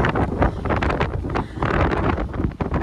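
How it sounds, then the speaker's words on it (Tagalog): Strong wind blusters steadily against the microphone outdoors on a large school campus, a loud continuous roar with gusty swells and no clear voices. "Dami namang hangin dito"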